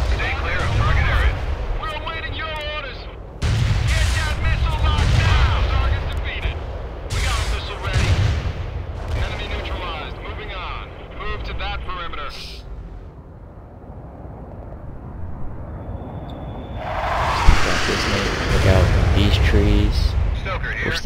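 Explosions from a napalm airstrike in the video game World in Conflict, heavy rumbling booms and roaring fire under frequent radio-style voices and talk across a long stretch.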